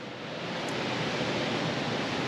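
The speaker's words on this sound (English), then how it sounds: "You can hear the heat kicking on right now." A heating system kicking on in a garage shop's metal fabrication area, a steady loud roaring rush of air sustained throughout with no voices.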